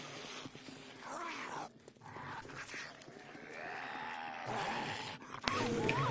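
A dog in the zombie survival game 7 Days to Die growls and snarls in several rough, drawn-out bursts over the game's background noise, with no talk.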